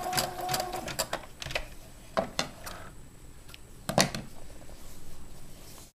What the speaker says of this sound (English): And I'm going to backstitch at the end as well as the beginning.